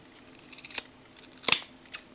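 Scissors snipping through duct tape while trimming overhanging edges on a homemade duct tape phone case: a few light quick snips, then one sharper close cut and a final small snip, quiet and alone.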